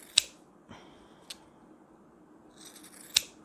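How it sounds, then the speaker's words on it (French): Pinking shears snip through fabric during beginner sewing of a school pencil case: a few sharp, close crisp cuts spaced apart, with quieter rustles between them in a quiet room. "un petit coup de ciseau cranteur des deux côtés"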